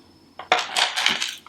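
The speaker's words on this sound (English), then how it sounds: "I'll set these power adapter things aside" Power adapters for a LaMetric Time clock clatter as they are set down during an unboxing, giving a few close, sharp hard-plastic knocks and rattles with no talking.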